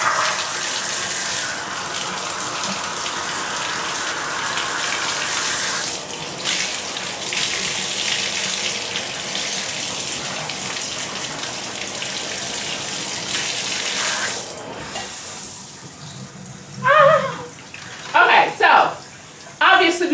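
Water from a shower runs in a steady, loud hiss that fills the space, later broken by a few short bursts of clearer splashing or voice-like sounds near the end.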